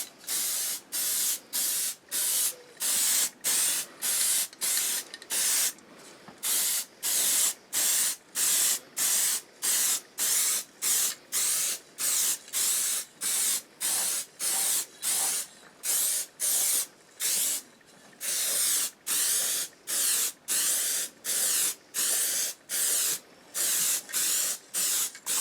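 Short repeated bursts of an aerosol spray can coating an engine, each hiss lasting about half a second with brief gaps, in a steady rhythm continuing for the whole stretch, close and fairly loud.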